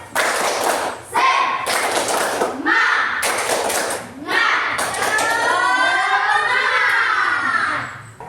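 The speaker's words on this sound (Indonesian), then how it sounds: "Tepuk semangat." A classroom group performs a rhythmic spirit clap as an ice-breaker, with loud bursts of unison hand claps in several bouts, mixed with chanted group voices and shouting, fairly close and filling the room.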